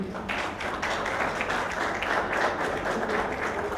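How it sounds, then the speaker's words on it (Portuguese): Audience at an education connectivity panel event applauding, a continuous even patter of many hands clapping at moderate volume throughout. "peço uma salva de palmas para ele"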